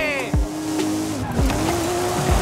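Car tires skidding in oversteer in Forza Horizon 5, on sand dunes: the engine drones steadily while three short, close tire squeals cut in at a regular rhythm, loud and clear with no talk.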